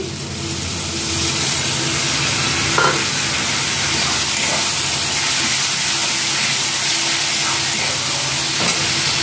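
Kewra water and rose water mixed with sweet attar are poured into a pot of cooking biryani, raising a loud, steady sizzle and hiss of steam with faint stirring clinks.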